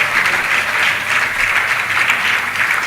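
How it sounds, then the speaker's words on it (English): A large audience applauds a secondary school choir after a birthday song, steady dense clapping filling the space at full volume without a break. "Please give them a round of applause."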